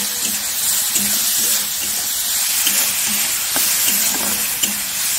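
Bamboo shoots seasoned with salt and turmeric are stirred in a pan, a steady close sizzle broken by repeated scraping strokes of the spoon against the pan, with no talking.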